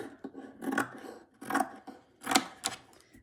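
Scissors trimming fabric in three or four quick snipping cuts, close and quiet, with soft cloth rustle between them and no talk.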